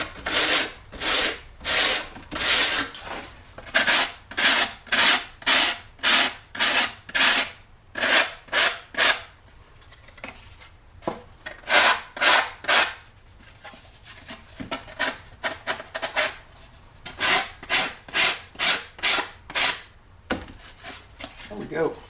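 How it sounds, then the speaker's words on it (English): Sanding block rubbed over balsa wood parts of a Midwest Aerostar 60 model airplane on a building board, a steady run of rhythmic rasping strokes, loud and close, with brief pauses between bursts. "So I'm going to take my sanding block,"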